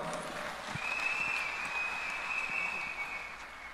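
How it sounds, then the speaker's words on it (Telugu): Applause from a women's event audience welcoming a speaker to the stage, steady moderate clapping at some distance with a faint sustained tone running through it. "చప్పట్లతో స్వాగతం"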